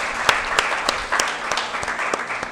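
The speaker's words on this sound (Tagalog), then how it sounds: "Isa pong palakpak muli sa ating dakilang Ama." Church congregation applauding during a Sunday worship service, many hands clapping together in a regular, evenly spaced rhythm with sharp claps above a softer continuous patter.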